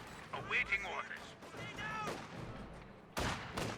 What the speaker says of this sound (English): Mortar's hitting the Puma once again